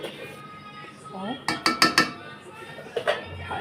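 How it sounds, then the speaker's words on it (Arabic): Metal spoon clinking and scraping against a pot while custard mixture is stirred, a quick burst of four sharp knocks followed by a couple more taps, close and distinct over faint background noise. "هقلبه كويس قوي وهرفعهم على النار"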